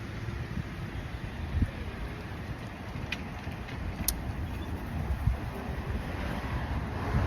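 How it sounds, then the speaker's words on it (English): Steady wind buffeting outdoors on a hot day, a continuous low rushing roar with gusty swells and no speech. "It's a kind of wind here."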